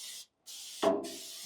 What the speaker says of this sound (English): I'm just going to spray it everything I can with this PAM.